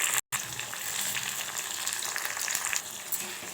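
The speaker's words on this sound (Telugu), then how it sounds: "ఇప్పుడు రెండు టమాటాలని కట్ చేసి ఇందులో ఈ ముక్కలు వేసుకుంటున్నాను" Cut tomato pieces dropped into onions frying in oil, a bright, busy crackling sizzle that runs steadily after a brief dropout at the start.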